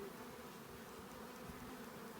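Honeybees at a hive in a bee yard make a steady, faint, continuous buzzing drone that never pauses.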